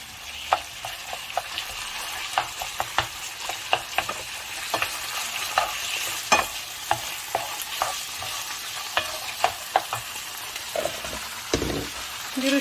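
Chicken pieces fry with garlic in a pan, a steady sizzle broken by frequent sharp clacks and scrapes of a utensil stirring against the pan, close and fairly loud.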